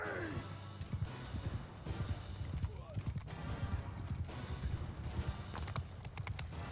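Horses gallop in the Bannerlord battle game, a mid-distance clatter of many hooves in uneven bursts, with talk over the top and scattered battle noise behind it.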